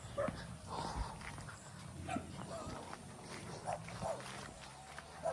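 Several dogs bark intermittently at moderate distance, with scattered yelps over a murky background and some voices.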